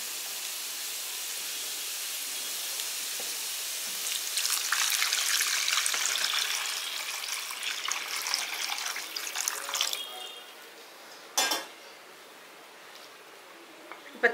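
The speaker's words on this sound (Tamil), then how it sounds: "இப்போ அதுக்கு வந்து தண்ணி வந்து 2 கப்பு ஊற்ற போகிறோம்." Two cups of water poured into a pan for cooking soaked millet in a home kitchen, a steady broadband splashing rush that swells for several seconds, then cuts off, followed by a brief second splash.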